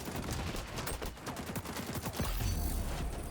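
Rapid bursts of AK rifle fire in the shooter game XDefiant, quick repeated shots forming a dense rattling volley with a low rumble toward the end, no speech.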